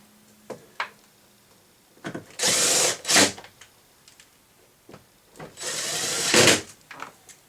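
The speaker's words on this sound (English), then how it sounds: "we're just going to go ahead and put the screws back in there" A power drill drives screws back into a 2021 Chevy Malibu door panel in two short whirring bursts, separated by light clicks and handling noises in a quiet space.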